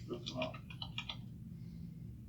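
Light typing on a computer keyboard during a screen recording, a short burst of soft clustered key clicks in the first second or so, then fading into quiet room hum with faint talk in the background.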